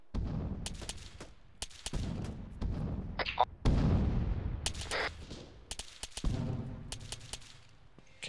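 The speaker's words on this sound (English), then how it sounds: "Sounds like the entire world's dropping rounds on you." Gunfire and artillery rounds in the military game Arma, rapid sharp cracks and heavy booms landing in uneven bursts nearby, some rumbling after impacts, with a brief exclamation from a player.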